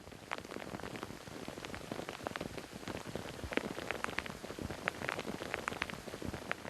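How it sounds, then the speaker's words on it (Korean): Rain falls steadily on the Jangdo island wetland, with a dense close patter of distinct drops hitting wet surfaces over a constant hiss, and no voices. "장도 습지에 비가 내린다."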